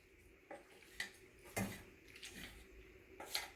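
Macaroni pasta stirred into cheese sauce in a pot, a quiet scraping with a few sharp clinks of a utensil against the pot's side, scattered irregularly with no voices.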